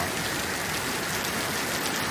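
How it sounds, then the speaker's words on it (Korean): A sudden rain shower pours down outside a hotel in northern Thailand, a steady, close hiss of heavy rain with no breaks and no voices. "갑자기 소나기가 쏟아집니다"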